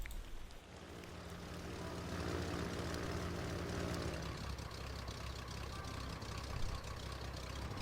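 A steady airplane engine drone rumbles continuously in the Airport CEO video game after a plane lands and waits for refuelling, loud and unbroken with a slight shift in tone midway.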